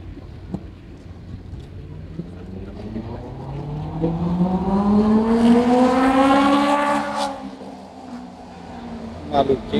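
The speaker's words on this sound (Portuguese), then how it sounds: "Maluquinho e sua moto." A loud, noisy motorcycle on a beachfront street near Tambaú beach in João Pessoa approaches and passes by, its engine whine rising in pitch and swelling before fading away, with wind noise on the microphone.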